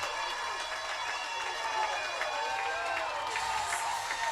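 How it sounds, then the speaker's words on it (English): A baseball crowd at Cardines Field cheers loudly and continuously after a three-run home run, a steady roar of voices and clapping filling the ballpark with no break. "And the crowd is going wild here at Cardines Field"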